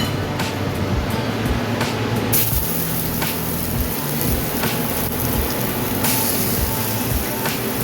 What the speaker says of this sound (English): We're going to start our sauteing procedure.